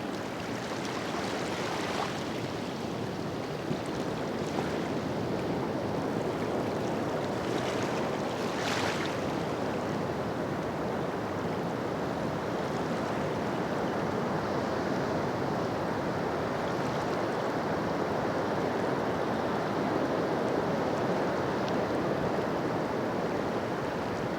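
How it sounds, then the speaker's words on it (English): Ocean surf at Rarotonga washes in as a constant broad hiss and roar, with soft swells rising at times and a little wind noise, no voices. "enjoying the sounds of beautiful Rarotonga and the beautiful ocean."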